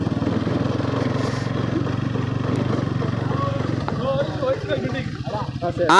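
Motorbike riding along a scenic route toward a landmark, engine droning steadily and close throughout while the rider eases the back brake, with speech over the running engine near the end.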